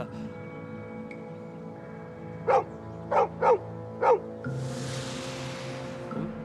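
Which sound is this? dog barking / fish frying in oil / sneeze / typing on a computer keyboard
dog barking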